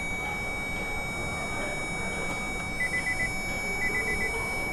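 A 2024 Nissan Altima with a key system error sounds a warning after the ignition switch is pressed: two clusters of four quick, high electronic beeps about a second apart, clear over a steady low cabin hum.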